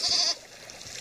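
A goat in a video game gives a single short, loud, high bleat at the start, followed by quieter background sound.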